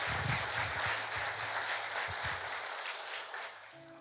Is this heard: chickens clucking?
no